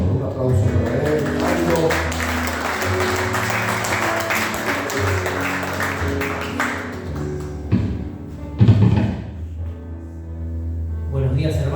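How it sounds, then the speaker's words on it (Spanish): Applause for a preacher from a church congregation, loud and sustained for several seconds with cheering voices mixed in, then fading out into scattered claps and talking. "Un aplauso para él."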